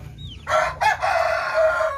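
Rescue chickens cluck close by over a low background hum, and a rooster's crow runs through most of the two seconds, broken by brief pauses.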